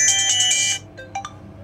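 A phone loudspeaker on a Tecno LB7 Pouvoir 3 plays a bright electronic ringtone after a sound IC reballing repair. A loud, pulsing tone sounds first, then stops, followed by a few short, quieter beeps.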